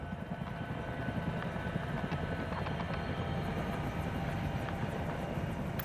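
In the Tom Clancy's EndWar video game, airlift aircraft arrive with a low, continuous rotor-like rumble and engine drone, steady and moderately distant, with faint mechanical ticks above it and no speech.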